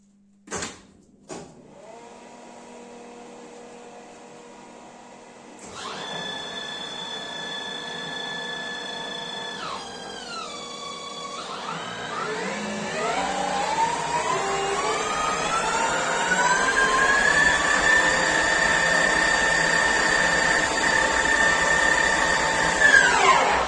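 A Microweily TY2500 lathe clicks on and spins up to speed with a steady motor whine, its pitch climbing and holding through several stages and growing louder and fuller as it runs on, close and alone.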